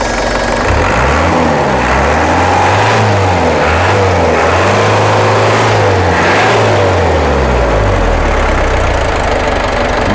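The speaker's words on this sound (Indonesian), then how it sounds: "Oke, kita tes lagi untuk kondisi mesinnya, gas." Diesel engine from a PS100 swap in a Chevrolet Blazer, loud and close, revved repeatedly in rising and falling surges from idle, several throttle blips in a row.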